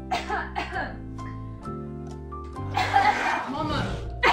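A girl fakes a cough, giving a few short staged coughs and throat-clearing sounds mixed with chuckles, close and fairly loud, with talking around them.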